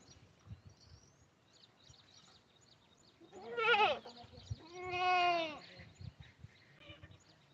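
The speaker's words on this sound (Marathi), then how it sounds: "अभी इन बकरियों को मेरे को चारा चराना है लेके जाना है उधर" Goats on a farm bleat twice in the middle, a short nasal cry followed by a longer wavering one, close and fairly clear over a quiet outdoor background with faint bird chirps.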